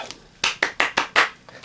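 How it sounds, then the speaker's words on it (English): Five sharp hand claps in a quick, even rhythm, close and crisp, after a soft tap or two at the start and followed by a faint tap at the end. "5 out of 5 claps"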